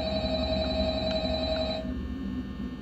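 A telephone in the video game Five Nights at Freddy's rings with a steady electronic trill, heard through a TV, that stops near the end with no talk over it.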